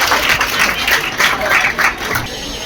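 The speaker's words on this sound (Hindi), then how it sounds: "एक बार जोरदार तालियां" Students applaud at a ceremony honouring a top-ranked pupil, a loud close crowd of clapping hands that runs steadily throughout with a voice briefly audible beneath it.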